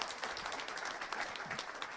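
Brief, fairly faint applause from a room audience, steady clapping lasting about two seconds with no voices.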